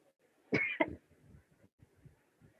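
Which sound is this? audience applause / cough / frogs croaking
cough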